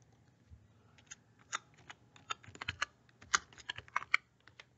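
Fast keystrokes on a computer keyboard as a shipping type name is entered, an irregular run of light, close taps and clicks over quiet room tone.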